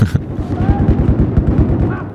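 Loud, close rapid gunfire from Battlefield 4, a fast rhythmic burst of shots running steadily for about two seconds with no pause.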